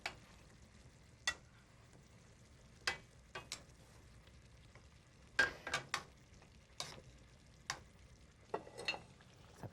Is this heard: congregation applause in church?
no